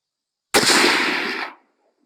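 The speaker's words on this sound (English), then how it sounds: "we're shooting from the prone position, and I'm not shooting a group. I'm just going to take one shot," A single rifle shot fired from the prone position outdoors, one sharp loud crack with a roughly one-second rolling echo that fades away, alone in silence.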